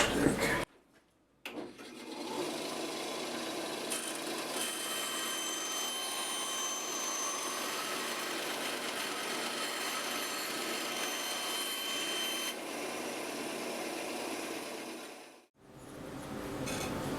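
A table saw rips thin walnut strips for splines, a steady loud whirring roar running close and unbroken after a brief start, then cutting off near the end.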